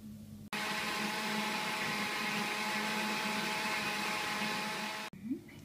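An electric blender whirring through savory crepe batter for cheese crepes: a loud, steady motor drone running about four and a half seconds, starting and stopping abruptly, with quiet handling noise after it cuts off.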